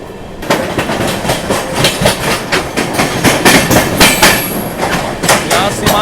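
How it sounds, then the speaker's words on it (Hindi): Seemanchal Express overtaking the Delhi–Mizoram Rajdhani, heard up close from the moving train: loud rhythmic clickety-clack of wheels over rail joints with a rumbling, rushing roar throughout. "यहाँ सीमांचल एक्सप्रेस हमारे आगे निकलते हुए आनंद विहार की ओर।"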